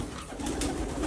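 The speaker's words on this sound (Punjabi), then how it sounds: "ਵੱਡੇ ਕਬੂਤਰ ਆ ਜੀ" Large pigeons kept in a loft room coo softly in a continuous, low, throaty murmur, close and moderately loud, with no speech over it.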